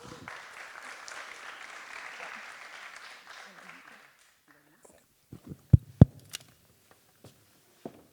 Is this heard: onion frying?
no